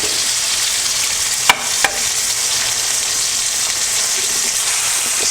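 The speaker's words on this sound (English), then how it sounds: "I'm going to do a fried egg to put on top of my burger" An egg frying in a pan for a brunch burger, a steady close crackling sizzle throughout with a couple of faint taps against the pan.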